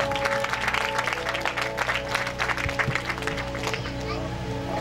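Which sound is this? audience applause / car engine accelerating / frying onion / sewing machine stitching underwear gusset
audience applause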